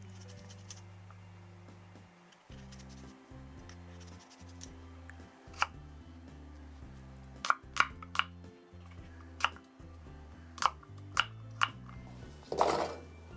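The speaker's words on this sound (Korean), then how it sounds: "사과는 이렇게 반으로 나누고요" A kitchen knife cuts an apple in half and removes the core while kimchi is being prepared. A low music bed runs underneath, broken by a scattered series of crisp taps and cuts and a brief scraping rustle near the end.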